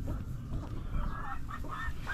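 Decal brown chickens scratch and play in rice husks, giving soft low rustling with several short clucks and chirps near the end, close by.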